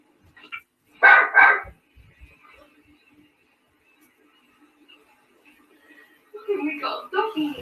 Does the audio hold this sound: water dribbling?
no